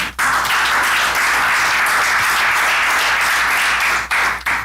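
A church congregation bursts into loud, sustained applause during a worship service, dense clapping filling the room for several seconds before tapering briefly near the end.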